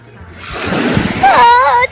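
Seawater splashing and sloshing as people wade into a cold Aegean cove, the churn building steadily and growing louder, with voices talking and exclaiming over it.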